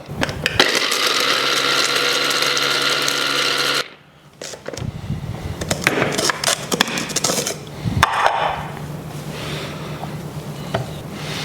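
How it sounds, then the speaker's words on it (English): A kitchen blender grinds caster sugar with cardamom pods, its motor running loud and steady for about four seconds before cutting out, followed by rattling and clattering as the jar is handled. "we'll give it a good run on the blender"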